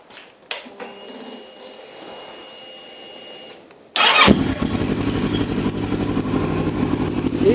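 A motorcycle engine starts after a stretch of quiet mechanical whirring, then settles into a loud, close, steady idle with a rumbling throb that carries on to the end.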